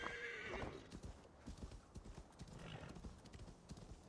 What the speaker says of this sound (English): Let's see how far we can ride our horse.